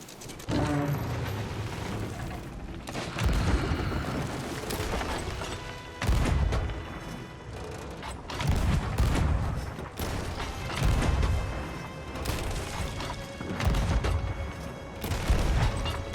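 Ship cannons fire in the pirate video game Sea of Thieves, with repeated booming blasts and mechanical clattering in uneven bursts through a busy, loud game soundscape.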